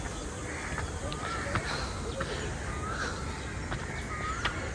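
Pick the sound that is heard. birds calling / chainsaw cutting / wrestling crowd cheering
birds calling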